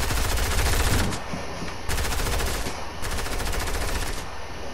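Sustained automatic weapon fire in Fortnite, loud and close, rattling in long bursts with brief gaps between them.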